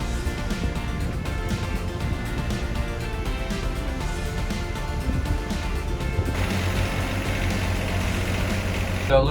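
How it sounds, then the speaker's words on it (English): A sailboat's inboard engine, topped up with coolant, runs steadily at a low, continuous drone that holds close and even for the whole stretch, its tone brightening slightly near the end. "adding the coolant gets the engine running at the normal temperature"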